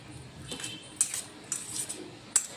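A spoon mixes egg salad in a bowl, with light metallic clinks and scrapes coming in a few irregular bursts, close and fairly soft.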